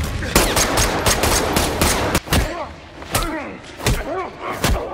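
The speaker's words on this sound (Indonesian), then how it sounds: "Sementara Nick terluka akibat tembakan" A gunfight from the action film Extraction 2: rapid bursts of gunfire and heavy single shots crack loudly at close range, followed by sharp impacts and a few thuds with ringing echoes.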